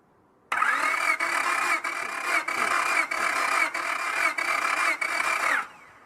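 A car engine cranks steadily during a cylinder compression test, with the starter turning it over in a rhythmic run of about eight evenly spaced pulses. The sound is loud and close, lasts roughly five seconds and stops abruptly, with no talking.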